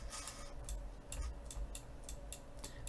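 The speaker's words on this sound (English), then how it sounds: "an audible click, which means that it's clicking the limit switch" A VEX Cortex limit switch is pressed by a turning gear, giving a steady series of small, faint clicks spaced a fraction of a second apart, close up in a quiet room.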